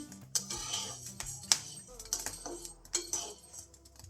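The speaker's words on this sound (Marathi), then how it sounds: "आवाज बघा कसा येतो असा आवाज आला तर समजायचं गहू भाजून झाले" Wheat grains roasting in a pan for satu flour give off scattered light clinks and ticks as the puffed grains are stirred against the metal, close and intermittent under a speaking voice.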